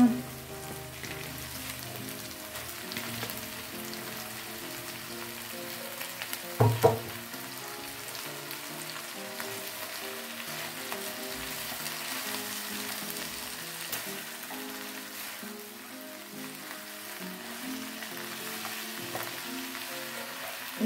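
Salted mustard greens and egg stir-fry in a pan, giving a steady, moderate sizzle throughout with one sharp clatter of a utensil partway through.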